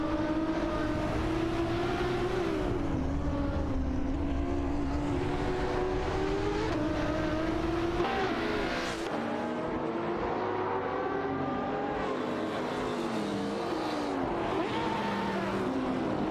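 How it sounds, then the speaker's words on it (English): Race car engines from an AI racing video game whine and shift pitch continuously, rising and falling as cars accelerate and pass, loud and steady with no talking. "Hope you're ready for some fast-paced AI race car action."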